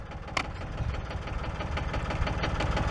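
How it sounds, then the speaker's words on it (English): Tractor engine idling while set up with a plow, a steady loud low rumbling chug with a faint knocking pulse, close by and unbroken. "Now I've got it set up, the tractor right now set up to go."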